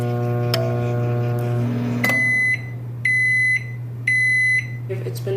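A microwave oven heating Shin Ramen noodles hums steadily, then a few short tones give way to three loud, evenly spaced beeps signalling the end of cooking.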